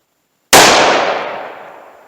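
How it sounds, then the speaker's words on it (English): One sharp, loud gunshot from a .357 Magnum snub-nose revolver, cracking out of silence and then decaying in a long, fading echo. "Substantially more recoil with the snub nose 357 Magnum."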